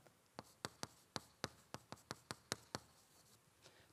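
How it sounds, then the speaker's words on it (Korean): Letters are written by hand with a pen, about a dozen crisp, quiet taps and strokes in an irregular rhythm, close and alone in a quiet room. "글자 다 써볼게요"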